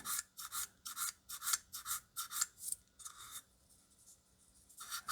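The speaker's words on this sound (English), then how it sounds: "just sand the texture back." Quick strokes of abrasive sanding back the surface texture on a Maschinen Krieger model, coming in short, regular scratchy bursts close up, then a pause and a final stroke.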